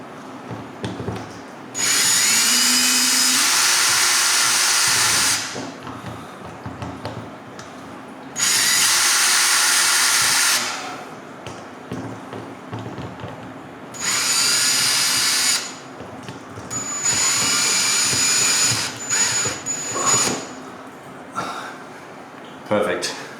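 A power drill fitted with a Phillips head bit drives screws while a Radion rail is suspended during an installation, with several loud whirring bursts of a few seconds each, separated by quieter handling noise and brief talk.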